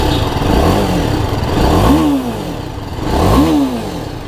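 A TVS Apache RR310, a 300cc sport motorcycle, revving through its stock exhaust, two loud close rises in engine pitch that each fall back to a rough idle, with no talking.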